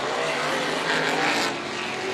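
Race cars at Stockton 99 Speedway, a steady, loud engine drone with a rising, passing swell as cars sweep by close, no voices.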